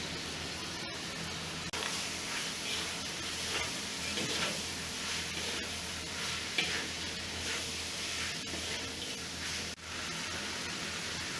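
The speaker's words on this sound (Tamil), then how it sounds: "அரைச்ச மசாலாலாம் இப்போ சேர்த்துக்கலாம்." Ground masala is stirred into a sizzling chicken biryani pan: a continuous frying hiss with repeated scraping stirs and a few sharper clinks, fairly close and unbroken by speech.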